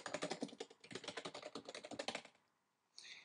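Rapid, close keyboard typing on a computer keyboard, a dense run of clicking keystrokes for about two and a half seconds, then a pause before a short burst of another sound.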